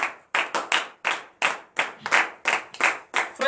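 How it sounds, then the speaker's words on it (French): A congregation at a Saturday morning prayer service in Comè, Benin, claps together in acclamation: about a dozen sharp, evenly spaced hand claps ring out close and loud in a steady rhythm, with no talk over them. "Donnez l'acclamation à l'Éternel."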